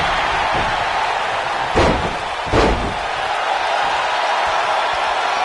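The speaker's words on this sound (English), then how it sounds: "Wow, he just slammed him with ease." A wrestling slam in the WWE 2K19 video game lands as two heavy, booming thuds about a second apart, rising over steady crowd noise and commentary.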